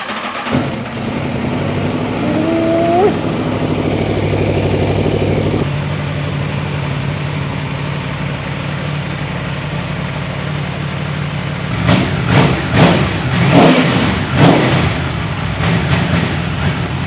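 An Aprilia Tuono V4 Factory SE-09 SBK motorcycle, 175 hp V4, idles with a steady low engine drone after a brief start, then blips the throttle in several sharp, loud revs near the end.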